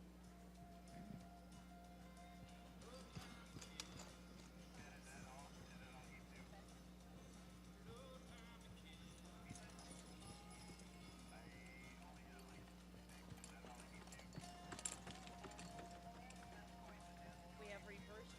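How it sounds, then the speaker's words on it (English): Horses trot around an arena pulling registered mare carts, a steady run of clip-clop hoofbeats with occasional whinnies under continuous crowd and announcer talk, fairly distant. "Back into the trot, please."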